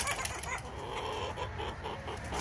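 Hens cluck softly in a short, quiet stretch, a few birds murmuring and clucking together at a distance.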